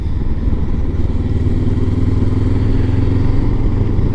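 A Honda CB500X motorcycle engine idles steadily at low revs, around 4,000 rpm, a continuous low rumble close by with no change in pitch.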